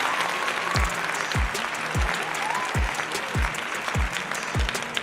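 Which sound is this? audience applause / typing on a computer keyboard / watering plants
audience applause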